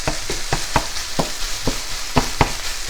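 Ground meat browning in a pan, a steady close crackling sizzle broken by regular scraping stirs of a utensil every half second or so, with no talking.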